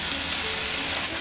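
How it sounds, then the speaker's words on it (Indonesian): Chicken and vegetables stir-fry in a hot pan, a dense, steady sizzle with a faint scrape of stirring that runs without pause and no voices. "Tumis ayam kurang lebih matang, lalu masukkan sayur."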